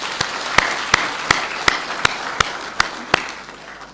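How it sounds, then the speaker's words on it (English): Applause from an audience at a state house book launch for a vice president: a dense wash of clapping under a regular beat of louder, sharper claps spaced about a third of a second apart, steady throughout. "Can we give him another round of applause?"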